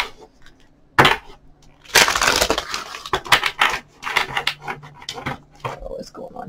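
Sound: tarot cards being shuffled

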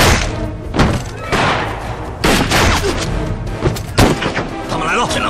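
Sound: gunshot from a rifle

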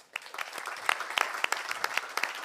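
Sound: audience applause at an award ceremony

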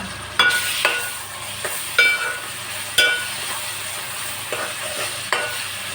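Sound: onions and tomato pieces frying in a pan

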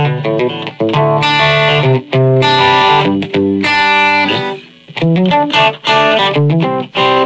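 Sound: distorted electric guitar without reverb

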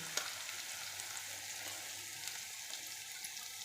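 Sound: sautéing chopped onion and tomato in pan

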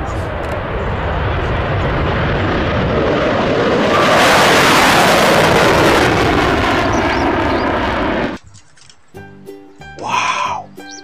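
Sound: fighter jet flying

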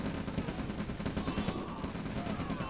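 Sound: artillery fire in OpenRA Red Alert video game

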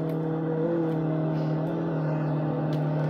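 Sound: car driving

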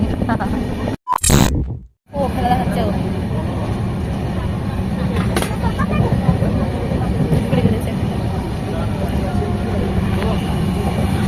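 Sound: passenger train running, heard from inside a carriage

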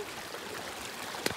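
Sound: river flowing at a trail river crossing

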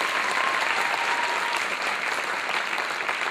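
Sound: applause at a gymnastics championship

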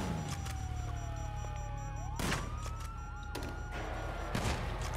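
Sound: police sirens in GTA 5 video game

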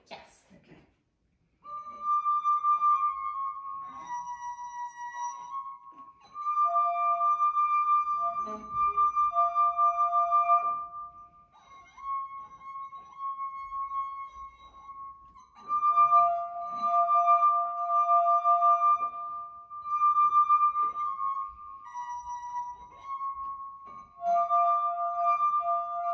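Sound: glass harp, water glasses played as a song

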